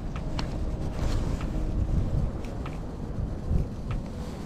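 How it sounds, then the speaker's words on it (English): Strong wind buffeting a microphone on a frozen lake during ice fishing, a loud continuous low rumble with gusty surges throughout. "The wind's atrocious today, by the way."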